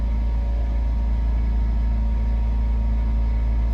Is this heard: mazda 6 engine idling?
yes